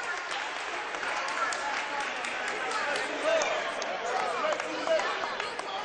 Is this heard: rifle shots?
no